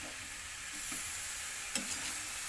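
Chicken sizzles and fries in a pan, a steady bright hiss of hot oil close up, with a few soft stirring scrapes and no talk.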